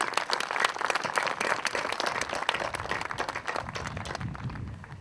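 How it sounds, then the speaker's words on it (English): Audience applause in a hall during a speech event at IIT Roorkee, many hands clapping briskly and densely before thinning out toward the end, moderately loud and close. "They deserve a big cheer. Let's give a hand to them."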